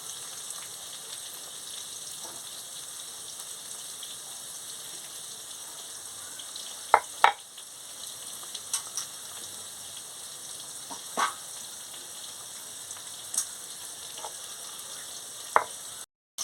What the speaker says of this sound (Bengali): ঢ্যাঁড়সটা ভাজা হয়ে গেছে